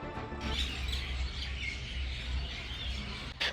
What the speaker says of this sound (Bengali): পাখির কিচিরমিচির ধ্বনির মাধ্যমে আমাদের স্বাগত জানানো হয় এই সুন্দর ছোট্ট পার্কটিকে